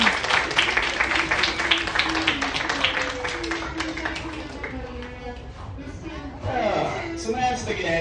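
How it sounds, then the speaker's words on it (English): An audience at a Miami alligator show claps in a dense, sustained burst of applause that fades somewhat midway, with people talking and calling out over and under it. "Sometimes people clap."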